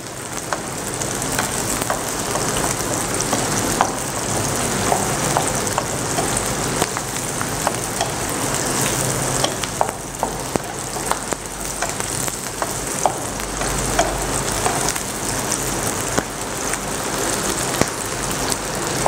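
Shallots and garlic fry steadily in hot oil for a white spice paste, a dense continuous sizzle with scattered pops and crackles, close and loud with no talking.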